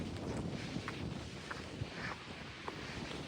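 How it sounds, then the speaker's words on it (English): Cold wind gusts buffet the microphone on a mountain hiking trail, a rough, rumbling roar with uneven puffs throughout. "Wind is not my favorite thing."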